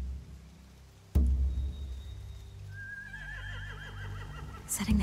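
A horse whinnies in The Walking Dead game after a sharp thud, its wavering neigh trembling for about two seconds against a low ambient hum, with another brief noise burst at the end.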